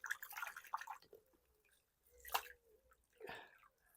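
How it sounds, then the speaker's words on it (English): Leek seedlings dunked and swished in a washing-up bowl of water while being prepared for transplanting, giving a few soft splashes and wet squishy drips, close and fairly quiet with pauses between. "Dunk them in some water."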